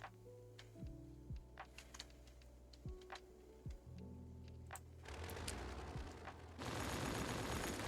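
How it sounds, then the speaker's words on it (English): Fireworks in the Cities: Skylines city-building game: quiet scattered ticks and pops build into dense crackling bursts toward the end, with no one speaking. "Oh, that was the sound of fireworks."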